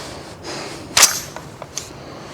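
A 12-gauge shotgun fed from a 20-round drum fires a single sharp outdoor report on a cold day, followed by a couple of fainter clicks and knocks against steady background noise.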